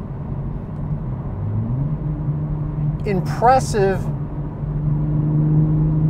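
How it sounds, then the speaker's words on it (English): A 2023 Toyota GR Supra 3.0 Premium in sport mode hums with a steady engine and exhaust drone heard from the cabin, briefly rising in pitch as someone speaks a short word over it. "So it gives you more pops, gurgles, the shifts are much more crisp."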